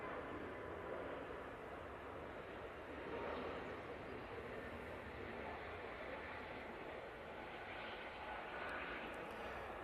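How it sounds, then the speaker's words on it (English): An Aer Lingus Airbus A320 departing Manchester Airport, a steady distant jet engine roar that holds at a low level throughout on an overcast day. "Off to Alicante, and it should be the Aer Lingus A320."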